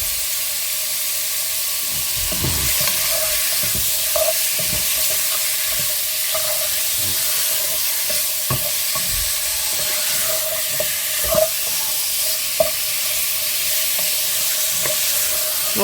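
Beef pieces for beef and carrots sizzle in a hot pan with a loud, steady hiss, and scrapes and taps of stirring break in now and then.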